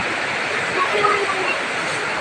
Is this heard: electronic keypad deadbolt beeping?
no